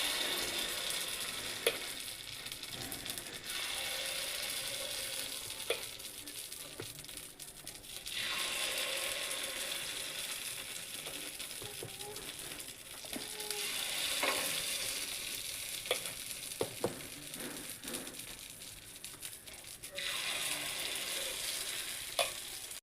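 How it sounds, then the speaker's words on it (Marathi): Idli batter goes into a hot oil-greased appe pan, giving a soft, fairly faint frying sizzle that swells and fades in waves, with light stirring and crinkling touches and no talk. "त्यामध्ये आपल्याला घालायचं आहे हे आप्याचं बॅटर"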